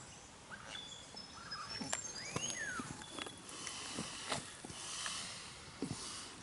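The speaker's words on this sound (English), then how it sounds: "That whirring noise you can hear is the female Satin Bower Bird." Faint mechanical whirring and buzzy calls from a female satin bowerbird drift over steady background hiss, with scattered clicks and chirps in an outdoor setting.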